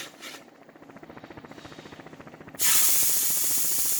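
Meat hits a searing hot pan and breaks into a loud, steady, broad hiss of sizzling that cuts in suddenly after a low rhythmic rumble and holds strong to the end, close up with no voices.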